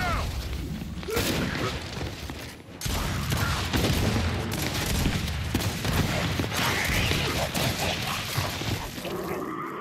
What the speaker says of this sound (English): The ugliest shotgun battle I've ever fucking been part of.